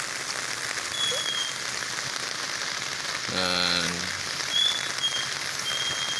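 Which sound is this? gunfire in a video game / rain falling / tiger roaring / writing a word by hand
rain falling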